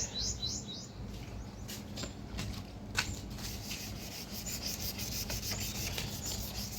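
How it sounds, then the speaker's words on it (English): Sandpaper scrubs a plastic car headlight lens by hand, giving a continuous gritty rasp with quick back-and-forth strokes, close and moderately loud, with faint chirping in the background. "We're going to try to get this down so we can't even really see through it with the sandpaper."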